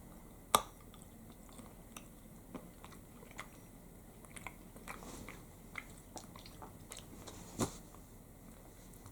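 Bites and chewing of a strawberry chocolate bar with a wavy pattern, from a Norwegian chocolate box. A few sharp, scattered snaps sit over soft, continuous close-up mouth sounds, and no one talks.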